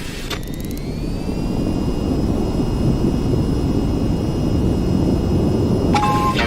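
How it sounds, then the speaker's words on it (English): A jet engine at full throttle roars steadily through a takeoff roll in a flight simulator game, a loud continuous drone with a rising whine and brief clicks at the start and end. "Now to take off, raise the throttle to full and steer to keep aligned with the runway."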